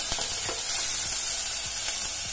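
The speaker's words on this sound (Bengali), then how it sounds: "আদা নহৰুখিনি দি গোটেইখিনি পিঁয়াজৰ লগত ভালদৰে ভাজি" Ginger and garlic frying with onions in a pan, a close steady sizzle broken by repeated scraping stirs of a spoon.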